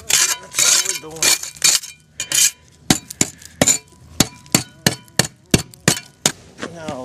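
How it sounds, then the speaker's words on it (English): A trowel scrapes and pries material off a house foundation, with sharp irregular metallic clinks and scrapes, close by, and someone talking between them. "See, we're just getting a trowel underneath it. See that? Ripping it off."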